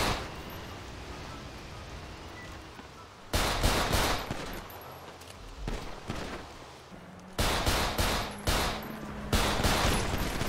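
Bursts of automatic gunfire in a GTA 5 roleplay shootout, rapid cracking volleys in two main clusters separated by quieter ambience, fairly loud and nearby.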